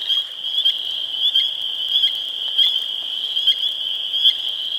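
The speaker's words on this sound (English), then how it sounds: "peeping noise that you hear in the background is actually coming from a little tiny frog called the spring peeper" A steady chorus of high, shrill peeping from many spring peeper frogs in Michigan, rhythmic pulses repeating continuously, fairly loud and close, with no voices.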